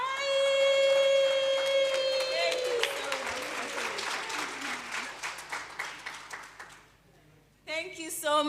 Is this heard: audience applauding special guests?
yes